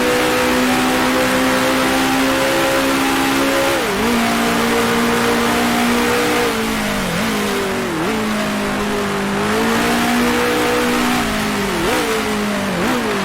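A 1966 Formula 1 race car engine in the Grand Prix Legends sim at Syracuse, droning loudly and steadily, with several brief downshift blips that dip and jump in pitch.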